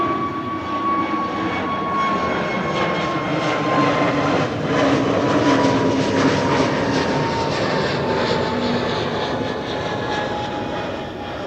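EasyJet Airbus A320neo jet passing near Amsterdam Schiphol Airport, a loud, sustained engine roar with a whining tone that swells toward the middle and then eases slightly.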